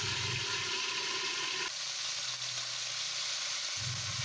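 Fish sizzles and crackles in hot oil in a non-stick pot, a steady hiss that briefly shifts and softens partway through before the louder frying returns, with no talking.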